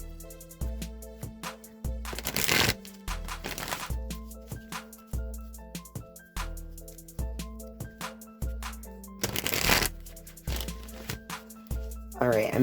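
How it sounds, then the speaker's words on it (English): A tarot card deck is shuffled in short riffling bursts under music with a steady beat, the papery rushes rising above the tune a few times. "let's just give these a few shuffles here"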